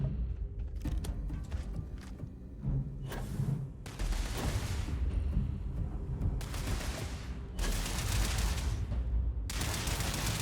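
Bursts of rapid gunfire in Starfield crackle in repeated volleys at automated staryards, loud and dense, with short pauses between them and a steady noisy background.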